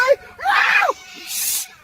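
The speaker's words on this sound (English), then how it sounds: "Look at the cat's like screaming." A cat screams in short harsh wailing bursts, loud and close, followed by a brief hissing noise, with people talking around it.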